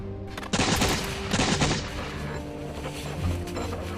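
A fierce Revolutionary-era battle between Hessian soldiers and attacking troops crackles with dense musket gunfire, rapid volleys bursting up loud and then rolling on as sustained, overlapping shots and rumble.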